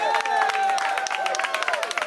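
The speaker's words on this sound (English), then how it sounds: "give Brother Dwayne Faison a big hand clap from Cypress" A rally crowd in Cypress Hills, East New York, breaks into a quick burst of dense hand clapping and cheering, with an amplified voice carrying over it.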